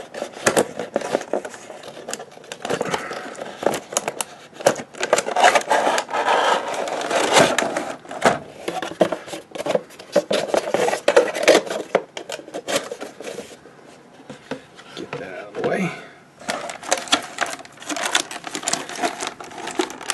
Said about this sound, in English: So let's go ahead and let's open it up.